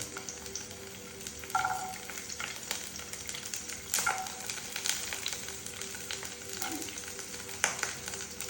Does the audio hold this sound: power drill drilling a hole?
no